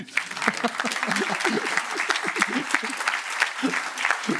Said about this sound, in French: C'est un effort qui se salue. Applaudissements.